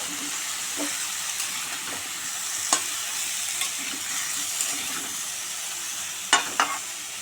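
Vegetables are stirred with salt and turmeric in a hot pan, with a steady close sizzle and scattered scraping clacks from the spoon against the pan.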